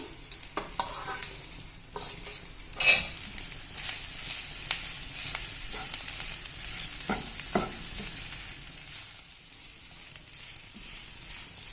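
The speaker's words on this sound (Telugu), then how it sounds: "ఆలు వేసాక కూడా 1 నిమిషం పాటు ఇలా మిక్స్ చేసుకుంటూ ఫ్రై చేసుకోవాలండి" Boiled potatoes and masala are stirred and fried in a pan for samosa filling, with an irregular scraping and clacking of the spoon over a soft, steady sizzle close to the microphone.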